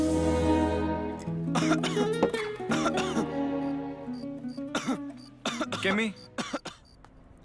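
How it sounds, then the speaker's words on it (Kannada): A person coughing on request during a close-range check, a handful of separate coughs and throat-clearing bursts with short talk in between. "ಕೆಮ್ಮಿ"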